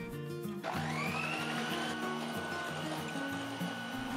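An electric hand mixer whips cream with powdered sugar and vanilla in a bowl, a steady loud whirring drone with slight pitch shifts as the cream thickens.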